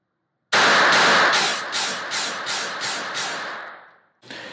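A Beretta Model 21A Bobcat pocket pistol fires a rapid string of about eight loud shots at an indoor range, echoing heavily, then one more shot after a brief pause.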